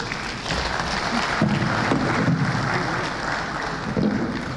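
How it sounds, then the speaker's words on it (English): A round of applause from an audience at a South East venture capital program event in Enugu, a steady wash of many hands clapping at moderate volume that holds for several seconds. "Please can we give her another round of applause, please?"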